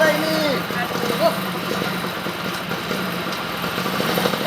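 A motorcycle engine idles steadily up close, with a low continuous rumble under people talking.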